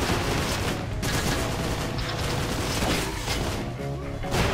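Assault rifle from Painkiller: Hell and Damnation, firing in dense, loud, continuous automatic bursts mixed with crashing impacts, sustained for several seconds.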